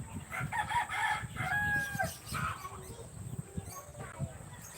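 A rooster crows once amid chickens and ducks raised outdoors, a moderately faint, drawn-out call rising over low background clucking and voices talking.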